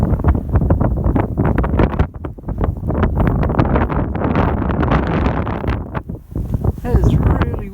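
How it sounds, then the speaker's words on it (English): Strong gusty wind buffets the microphone on a coastal hike from Redcar towards Saltburn and Whitby, a loud continuous roar with rumbling bursts and brief lulls. "It is really windy."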